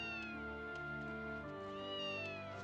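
A cat in the video game Ys 2 lets out drawn-out, wavering meows, two long calls over a steady droning game music background, clear and fairly close.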